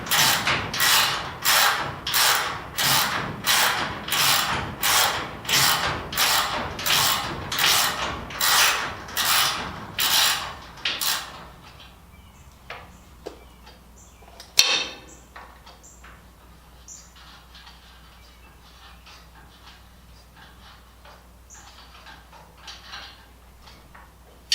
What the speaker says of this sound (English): Haven't done that much wrenching in a long time.